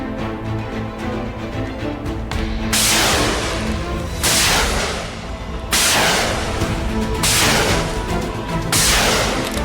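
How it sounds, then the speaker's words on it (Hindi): Missile strikes from an M-80 rocket attack on Israel by Lebanon land as a series of loud, sharp blasts, about five, each breaking into a roaring, rumbling wash over steady low background noise. "यह M80 मिसाइल का हमला है"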